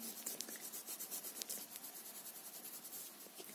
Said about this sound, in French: Et après, je peux colorier à l'intérieur plus rapidement.